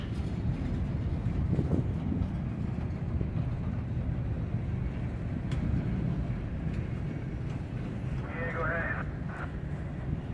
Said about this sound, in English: Yeah, this train's definitely going north, probably.